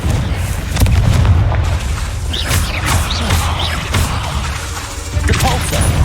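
Fire-blast spell explosions from the Confringo spell in Hogwarts Legacy, heavy booming blasts and crashes rolling in close and loud inside a cave, with a brief spoken spell cast.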